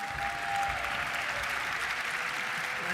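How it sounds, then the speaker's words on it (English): Applause from the audience at a fire and EMS awards ceremony, a steady even round of clapping from a seated crowd, moderately loud and heard alone without voices. "can we get a round of applause for our guest MCs?"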